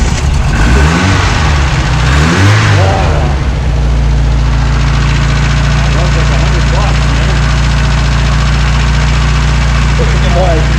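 A Bentley V12 engine revs hard in a garage, a loud, rough roar that settles into a steady, heavy idle while people talk nearby.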